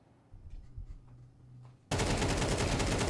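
Counter-Strike gunfire from an ESL Challenger League match: after a quiet stretch with faint game sounds, a sudden loud burst of rapid automatic shots erupts and continues to the end.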